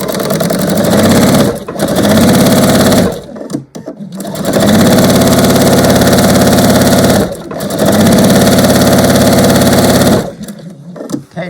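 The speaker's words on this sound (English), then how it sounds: "just sewing right sides together along the narrow edge" A sewing machine stitches quilt fabric pieces right sides together in a quarter-inch seam, running loud and close in three long steady bursts separated by brief pauses.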